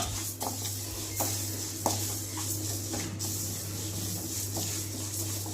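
Moong dal dry-roasting in a pan for payasam, a steady low sizzle with repeated scraping and stirring strokes of a spoon against the metal, close and continuous, with no voices.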